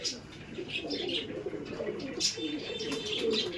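Giribaj pigeons at a sale coo and chirp close by in a soft, continuous murmur of overlapping calls, with a faint rustle of movement beneath.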